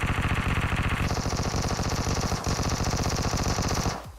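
Vector submachine gun in PUBG Mobile on the Livik map, firing in loud, rapid, continuous bursts of closely spaced shots for about four seconds before cutting off.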